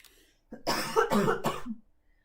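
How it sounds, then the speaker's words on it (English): A single burst of harsh coughing, two or three hacks close together, loud and near, with quiet before and after. "Sorry about the cough."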